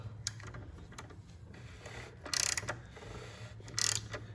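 A socket ratchet with a 27mm socket tightens the oil filter cap on a Fiat 124 Spider Abarth, giving soft clicking mechanical sounds and two louder bursts of rapid ratcheting, up close, with no talking.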